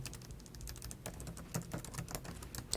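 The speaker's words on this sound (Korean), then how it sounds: "이름 입력 컨트롤 엔터 눌렀고요" Typing on a computer keyboard while entering a name in an Excel file, quick close key clicks in uneven bursts, ending with a couple of sharper keystrokes like a shortcut press.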